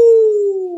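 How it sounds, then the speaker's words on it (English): A werewolf's long, drawn-out howl on a playground, one sustained tonal cry that slowly glides downward in pitch, loud and close with no talk over it. "The werewolf howled."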